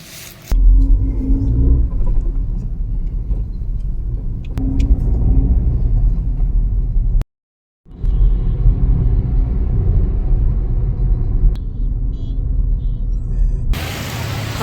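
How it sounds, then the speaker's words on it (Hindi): A vehicle arrives close by, its engine giving a loud, steady low rumble that cuts out briefly in the middle and then resumes, with no talk. "यहाँ पे आ गया मेरे पति गाड़ी लेकर के"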